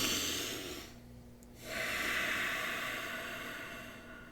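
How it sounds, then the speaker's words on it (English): A single deep breath drawn in and let out, close and breathy with a soft hissing rush, alone with no speech. "At this point, let's take a breath."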